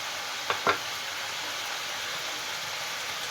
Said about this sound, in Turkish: Lavaşlarımızı güzelce tavamıza şöyle ısıtalım.